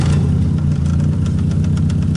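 Auction car bought for about 1,700 running with a faulty exhaust: a steady, loud, rough engine rumble with a knocking, uneven low pulse throughout, close by and without talk.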